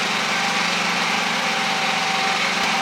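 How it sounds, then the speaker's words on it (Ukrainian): A generator runs steadily to power an aluminium welding machine, giving a constant, even engine drone close by with no pauses and no voices. "Запускаємо наш апарат від генератора."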